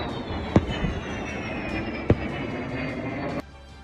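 Kh-101 cruise missile releasing decoy flares just before impact, two sharp popping bursts over a steady roaring whoosh that cuts off abruptly near the end, heard from a distance.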